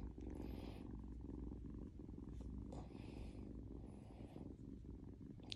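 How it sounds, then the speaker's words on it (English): A kitten purrs steadily up close, a continuous low rumbling throb that runs through the whole stretch with no talking over it. "You can hear him purring if you're real quiet."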